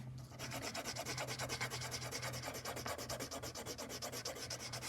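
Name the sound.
pencil shading on paper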